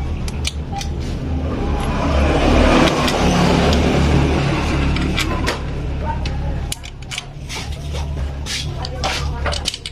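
Motorcycle engine idling rough with the exhaust and muffler opened up, a steady close low rumble filling the whole clip, with people talking over it.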